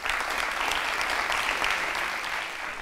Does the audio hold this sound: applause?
yes